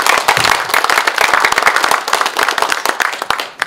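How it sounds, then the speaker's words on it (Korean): Dense crowd applause and clapping at a regional residents' autonomy association president inauguration ceremony in a cultural center hall, loud and sustained with rapid overlapping hand claps, tapering slightly at the end. "또 축하 박수 부탁드립니다"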